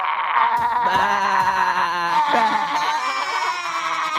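Goats bleat in wavering, quavering cries that overlap one another, loud and close, over a steady background.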